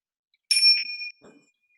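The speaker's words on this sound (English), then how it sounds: "When you guys hear this chime" A single bright chime rings out clearly, with a brief ringing tail and then a soft, faint knock, heard alone against silence during a guided breathing session.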